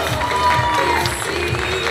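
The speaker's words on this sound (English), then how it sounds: "Give these guys a big, big round of applause." Crowd noise at a men's classic physique novice bodybuilding show, a steady wash of clapping and cheering that fills the room throughout the moment.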